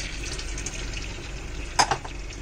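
Cold water runs steadily over cooked vegetable chow mein noodles in a strainer, a continuous soft splashing rush with a brief louder splash or clatter near the end.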